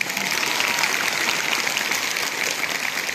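Steady applause from a college audience at a Sambalpuri poetry recital, a dense continuous patter of many hands clapping at even volume throughout, with no voices over it.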